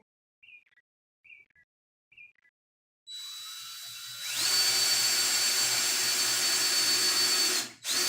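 Three short electronic beeps sound, then a power drill spins up and bores pilot holes into wood for a farmhouse kitchen island, a loud close whine that climbs in pitch and cuts off abruptly.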